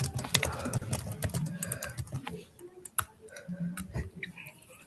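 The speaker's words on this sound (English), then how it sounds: "I can hear this keyboard typing" Computer keyboard typing picked up on a call, a quick irregular run of clicking keystrokes at moderate level, some near and sharp, others softer, with faint background sounds.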